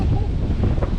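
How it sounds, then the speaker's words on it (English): Strong outdoor wind buffeting a microphone, a steady low rumbling roar with gusty flutter, loud and close, with no other distinct sounds. "it's so windy out here"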